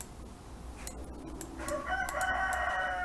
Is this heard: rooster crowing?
yes